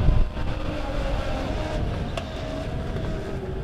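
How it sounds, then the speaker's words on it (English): Legends race cars racing side by side on a dirt track, a dense continuous engine roar heard from a distance, steady throughout. "Side by side, three cars battle for that top spot."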